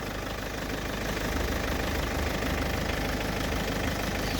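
Diesel car engine idling steadily with a rough, knocking rattle under a dense broadband hum, loud and close, holding constant throughout with no talk.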